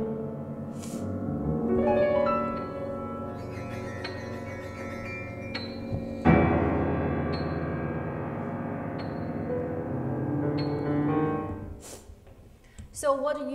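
A piano is played with extended techniques during a lecture recital. Sustained chords mix with bright metallic clinks and plucked-string accents, and a sharp struck attack lands midway. The sound is close and resonant, with no talking.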